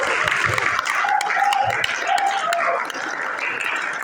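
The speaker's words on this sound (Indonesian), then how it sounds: "Tepuk tangan dong buat Kak Denisa." An audience claps together in a room, steady and moderately loud for about four seconds, with some low murmur mixed in.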